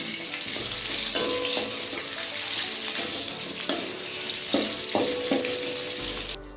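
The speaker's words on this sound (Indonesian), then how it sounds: "Kita masukkan minyak sedikit saja untuk menggoreng si bumbunya" Galangal, lemongrass, lime leaves and bay leaves fry in a little hot oil, a loud continuous sizzle with scraping stirs and utensil knocks throughout, ending in a brief louder hiss.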